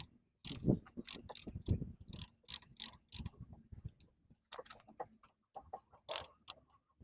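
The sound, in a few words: compressing brake caliper piston with a tool on Mazda 3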